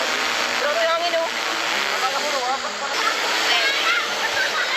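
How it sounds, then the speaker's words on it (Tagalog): Strong wind blows at the seaside, a loud rushing hiss buffeting the microphone throughout, with a voice speaking faintly beneath it. "Grabe hangin oh."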